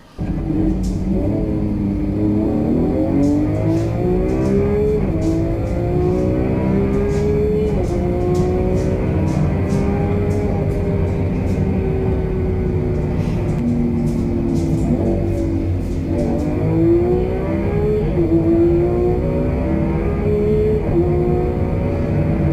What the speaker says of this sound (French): Là, on va se voir une petite accélération, voilà.